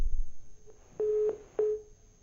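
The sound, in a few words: telephone line tone after phone call disconnected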